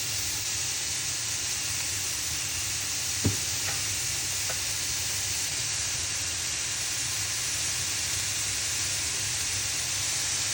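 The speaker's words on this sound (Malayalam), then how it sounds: "അതിനുശേഷം നന്നായിട്ട് ഇളക്കി നമ്മളെല്ലാം ബീൻസിനും ക്യാരറ്റിലൊക്കെ പച്ചമുളകിൽ നന്നായിട്ട് ഈവനായിട്ട് ഇളക്കുക." Beans, carrots and green chillies seasoned with salt and turmeric fry in a pan, a steady soft sizzle and hiss with a couple of faint scraping stirs near the start.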